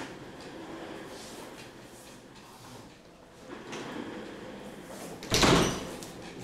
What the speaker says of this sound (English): Because he's got this door open.